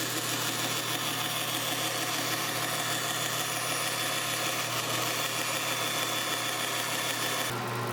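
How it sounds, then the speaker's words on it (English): A bandsaw cuts a sheet of plexiglass in a workshop, giving a steady, loud mechanical drone with a bright hiss that runs unbroken for the whole stretch and changes slightly near the end. "I traced around the panel and I cut the piece out on the bandsaw"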